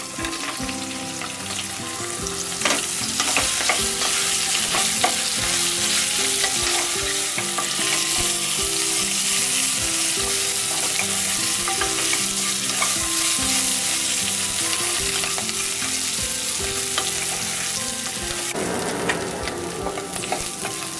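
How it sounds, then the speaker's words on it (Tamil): Okra (vendakkai) sautés with green chilli in a pan for a Chettinad mandi, giving a steady, close sizzle and frying hiss broken by repeated scraping stir strokes, with no talking. "வெண்டைக்காயை ஒரு 2 நிமிஷம் நான் வந்து வதக்கியிருக்கேன்."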